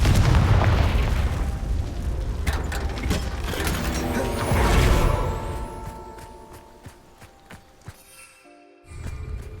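Hogwarts Legacy Confringo fire spell blasts arrive as a loud, booming explosion swelling early, then crackling mechanical clatter fades into a short silence before another burst.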